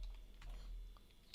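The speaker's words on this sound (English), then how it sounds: "Am I typing the right thing?" Keystrokes on a computer keyboard during a backend engineering class, a quiet, faint run of light irregular clicks with a slightly louder tap near the end.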